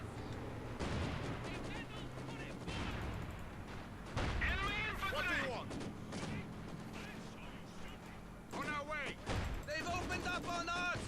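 Company of Heroes 2 battle at Stalingrad with booming artillery shots and scattered gunfire, mixed with game music and sound effects, loud and continuous.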